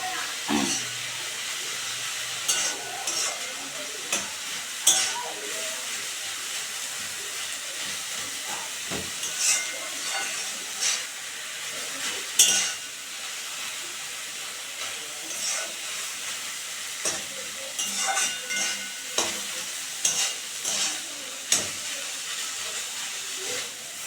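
Thankuni leaf greens cooked with potato frying in a pan, giving a steady hiss with scattered sharp clicks and scrapes from stirring, close and moderately loud, no talking.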